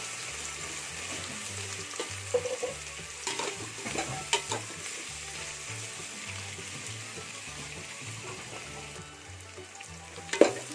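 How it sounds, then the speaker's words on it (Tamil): Onions and green chillies sautéing for mutton biryani, a soft steady sizzle broken by scraping stirs and light clinks of a spoon against the pan, with no voices. "இப்போ இது எல்லாத்தையும் நல்லா வதக்கிக்கலாம்."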